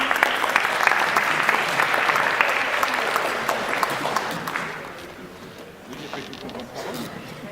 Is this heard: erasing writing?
no